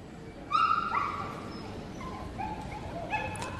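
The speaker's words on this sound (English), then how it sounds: "handling an English Springer Spaniel." An English Springer Spaniel at a junior handling competition at Crufts gives short whimpering yips and whines, a few separate cries over steady crowd and hall noise.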